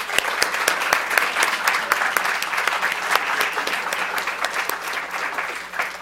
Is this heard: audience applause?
yes